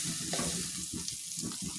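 Catla fish sizzles and crackles in hot oil in a pan, a steady close frying hiss with bursts of popping throughout, with no voices.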